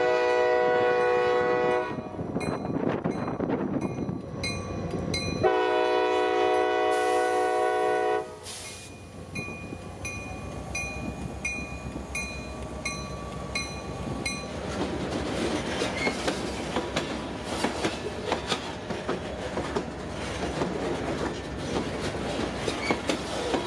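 A small freight train of hopper and tank cars rumbles past with a long horn blast, then steady clickety-clack of wheels and rattling cars, loud and continuous throughout.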